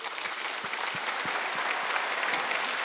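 A church congregation at a Wednesday worship service bursts into close, dense applause, a continuous patter of many hands with a few sharper individual claps, heard without talking.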